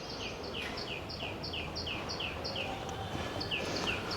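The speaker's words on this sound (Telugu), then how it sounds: "పక్షులు చూడండి ఎట్లా అరుస్తున్నాయో" Birds call in a quick, steady series of high chirping notes, repeated a dozen or more times over a quiet outdoor background in a rooftop vegetable garden.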